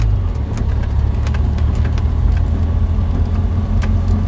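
A V8 engine from RPi Engineering drones loudly and continuously from inside the car, a deep, steady rumble with faint ticking above it as it pulls through the gears.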